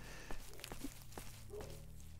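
Footsteps in S.T.A.L.K.E.R.: Shadow of Chernobyl, a handful of soft, fairly quiet steps spaced unevenly over a low ambient rumble, without talking.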